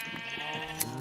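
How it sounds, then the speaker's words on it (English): Sheep in a Minecraft-style video game give a short, clear bleat, a single brief synthetic baa heard up close over a quiet game background. "Got some sheep."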